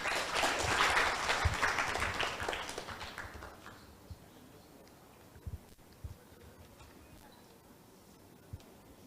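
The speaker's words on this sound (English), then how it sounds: "Ladies and gentlemen, please give them a big round of applause." Audience applause for debate teams at a school debate event, fairly loud for the first few seconds, then quickly dying away to a quiet room with a few scattered claps and taps.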